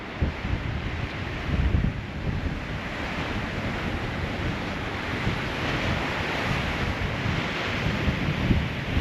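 Ocean waves wash against the rocks beside Bondi Beach in a constant broad roar, mixed with heavy wind buffeting on the microphone and a slightly louder surge near the start.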